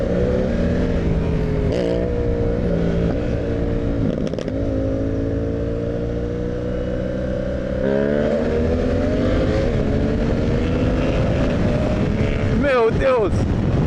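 A motorcycle engine revs hard in first gear, climbing in steady sweeps under loud wind noise, with brief drops between pulls and a sharp rev near the end.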